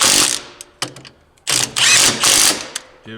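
A Milwaukee impact wrench tightens a suspension bolt on a CFMOTO UFORCE 1000 UTV during a lift kit install, firing in several loud close rattling bursts separated by short pauses.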